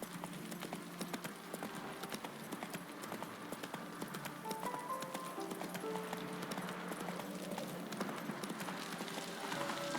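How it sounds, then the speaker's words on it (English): In The Witcher 3, a horse gallops with quick, rhythmic hoofbeats that continue steadily throughout, alongside faint game sounds. "Run, Roach."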